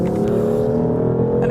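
Engine of a Lexus RC F or BMW M4 super-coupe pulling hard on a race track, a loud continuous droning roar with steady harmonics that holds strong from start to finish with no pauses.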